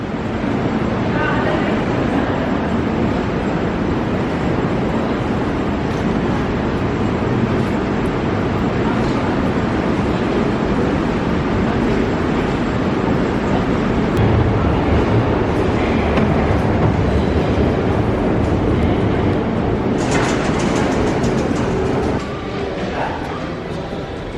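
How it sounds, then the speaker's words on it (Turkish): A Moscow metro train rumbles loudly and continuously through a station in the Moscow City district, a steady roar with a brief hiss near the end, while voices talk over it. "Vıst Vıçna'ya adlı istasyona geldik."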